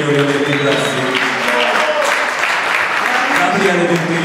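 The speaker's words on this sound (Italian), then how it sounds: "Un applauso a Mr. Migliori e Mr. Grassi." Audience applause for the band members at a blues concert, a steady wash of clapping filling the room while someone speaks over it throughout.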